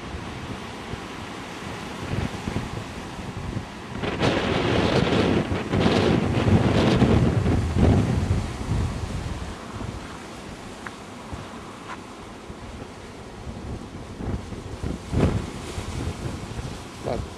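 Rough, stormy sea surf pounds the Gizzeria Lido coast during a winter storm surge, with strong gusting wind buffeting the microphone; a loud swell of crashing water builds midway, then steady roaring surf and wind continue without speech.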